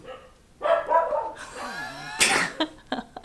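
Several dogs barking and yipping in bursts at close range, sharp irregular barks with a louder flurry near the end.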